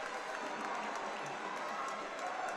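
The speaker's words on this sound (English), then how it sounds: "And a big cheer for the Guatemalan" Crowd at an amateur boxing bout in Armenia cheers and applauds a Guatemalan boxer's win, a steady, dense wash of clapping and cheering that holds at even loudness throughout.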